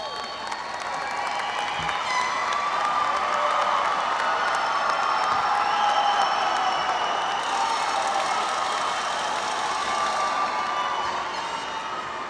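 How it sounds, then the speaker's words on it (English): Graduates at a Texas A&M University-San Antonio fall commencement ceremony applaud and cheer in a large hall, a broad, sustained roar of clapping and crowd noise with scattered whoops and whistles. "Please take a moment to stand, wave, and applaud those who have helped you along your way."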